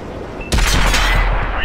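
A tank gun fires in World of Tanks, a sudden loud blast after a quiet moment, followed by a sustained booming rumble and echo.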